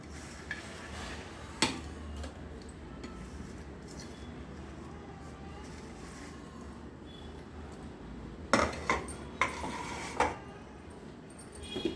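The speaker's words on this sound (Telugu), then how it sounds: "బెల్లం కూడా వేసి తిప్పుదాం" Jaggery being stirred into a laddu mixture in a pot: a low steady background with scattered metallic clinks and scrapes of a spoon against the pot, a cluster of louder knocks near the end.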